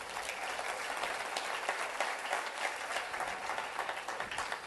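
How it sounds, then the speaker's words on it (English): Audience applause fills a business presentation room, a dense, steady wash of many hands clapping at moderate volume throughout, with no voices over it. "a round of applause to you guys"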